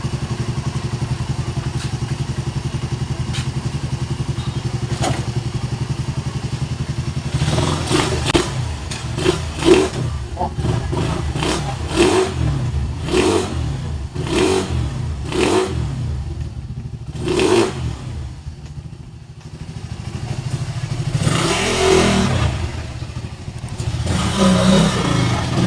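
A 2017 Suzuki Raider 150 motorcycle with a refreshed engine and new clutch lining runs on a test ride. It idles first, then revs repeatedly in loud rising and falling bursts, nearby and without talk.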